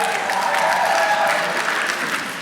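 Applause fills the room at a fellowship ceremony, a steady wash of many hands clapping together without a break from start to end, with no talk above it.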